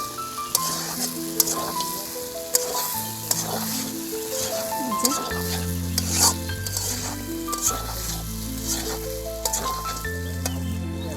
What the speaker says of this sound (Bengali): এর ভিতরে এখন ভাজা কই মাছগুলোকে আমি দিয়ে দেবো